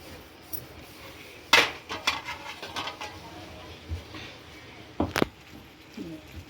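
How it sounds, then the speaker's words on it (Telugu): A metal spoon scrapes and clinks against a pan while garam masala and chicken masala are stirred into prawn fry, sharp intermittent knocks over a soft background hiss. "ఇప్పుడు మనం ఇందులో కొంచెం గరం మసాలా ఒక చికెన్ మసాలా వేసి మంచిగా కలపాలి"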